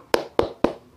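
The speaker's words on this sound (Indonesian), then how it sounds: "Ustazah beri tepuk jempol untuk semuanya" Children doing thumb clapping (tepuk jempol) in a school lesson make three crisp, evenly spaced claps in quick succession, close and fairly loud with nothing else around them.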